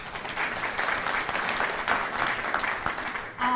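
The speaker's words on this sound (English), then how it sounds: "So actually all three of them deserve applause, but Susan has been such a leader with that." Applause from an audience at a community organization meeting, steady and dense for several seconds before tapering off at the end.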